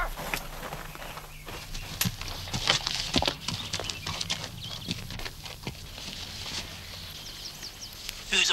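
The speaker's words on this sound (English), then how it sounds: "Whose horses are they anyway?" Horses walking, their hooves clip-clopping in an irregular steady rhythm, fairly faint and moderately distant, with no talk over them.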